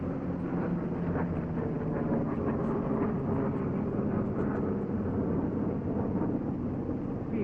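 A 1943 P-47 fighter plane roars steadily through its takeoff, a loud, continuous engine drone with wind rush that holds without a break.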